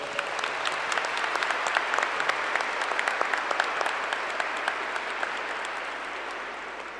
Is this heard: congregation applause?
yes